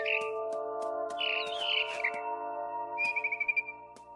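Chirping of a mother bird in the game What Remains of Edith Finch, with a few high calls and then a rapid series of short tweets over a steady ambient hum of the game's music.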